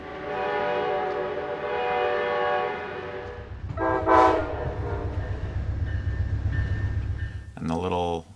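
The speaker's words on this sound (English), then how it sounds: "I love hearing the sound of the horns in the rear speakers after the train leaves the station." A train horn blares in a long sustained chord with a layered, spatial feel, then gives way to the low rumble of the train pulling out of the station, closing with a short second horn burst at the end.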